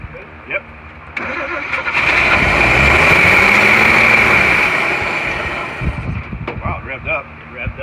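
A car engine cranks, catches and revs up into a loud sustained roar, then settles back, with people talking over the end.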